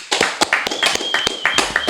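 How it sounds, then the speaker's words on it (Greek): A handful of people clap at the close of a podcast talk with kanonaki player Tasos Poulios, short sharp claps sounding close and fairly loud, with a faint sustained tone running beneath them. "Το αυθόρμητο χειροκρότημα"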